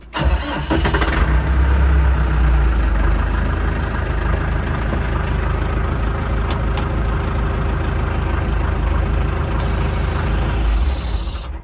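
A Skaut 504C tractor engine cranks and catches with a sharp start, then settles into a steady, loud idle that runs for several seconds before it is switched off and the sound drops away at the end.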